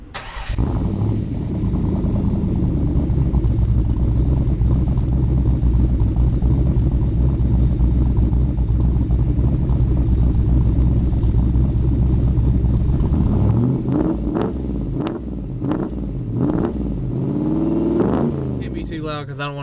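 An SN95 Ford Mustang V8 warming up, with a steady, loud low rumble that holds for most of the stretch before easing off, followed by a few clicks and knocks. A person talks near the end.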